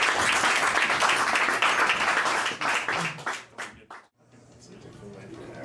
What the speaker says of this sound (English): This round of applause is for you as you return to your seat.